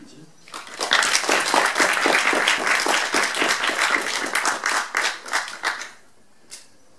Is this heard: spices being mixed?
no